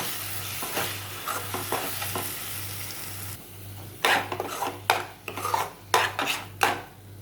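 Four cracked eggs tipped into a hot pan and stirred for Marathi-style egg bhurji, a spoon scraping and clinking against the pan over a steady sizzle, with sharper stirring knocks in the second half.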